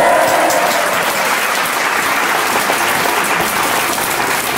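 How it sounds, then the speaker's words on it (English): A folk club audience gives rousing applause for Brookes Williams, dense, continuous clapping that stays loud and steady from start to finish. "Let's have some rousing applause for Brookes Williams."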